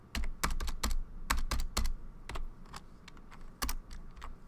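Typing on a computer keyboard while entering a number into a spreadsheet, with a quick burst of sharp keystrokes, a pause, then a few more taps, close and clear with no talking.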